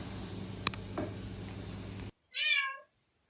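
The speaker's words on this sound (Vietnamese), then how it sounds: "Chú mèo con." A kitten gives a single clear, high meow, close and alone, following a few seconds of steady background hiss with a brief click.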